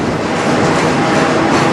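A CN freight train carrying mixed cars, including grain and potash cars, rolls past at close range with a loud, continuous rumble and rattle of wheels on rail, and no talk.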